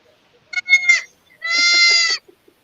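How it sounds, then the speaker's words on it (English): Baby Nigerian dwarf goats, bottle-fed kids kept indoors, bleat loudly and close by: a short broken run of cries, a pause, then one long wavering scream. "Got baby goats."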